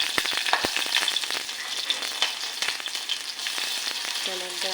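Garlic and ginger sizzle in ghee inside a pressure cooker, making a continuous close crackling fry with small pops and a few stirring clicks.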